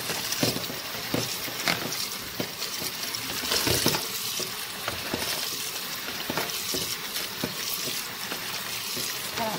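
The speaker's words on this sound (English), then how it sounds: "I'm just gonna rinse this in cold water." Cooked naengmyeon noodles rinsed under cold running water, a steady splashing hiss with irregular clatters and slaps as the noodles are moved, continuous and close for several seconds.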